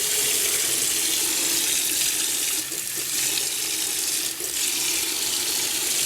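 Kitchen or utility tap runs in a steady, loud stream while metal-detecting finds are washed with a little dishwashing liquid, the flow briefly dipping a couple of times without any talk.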